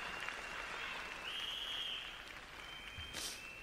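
A concert crowd at the Hong Kong Coliseum applauds in a steady, distant wash of clapping that stays fairly faint throughout. A thin whistle-like tone rises above it for a moment.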